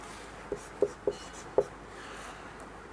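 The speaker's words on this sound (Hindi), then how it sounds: "उसके लिए देखिए एक उदाहरण लिखते" Chalk or marker writing on a board, a handful of short taps and strokes in an irregular rhythm, close and clear over faint room noise with no talk.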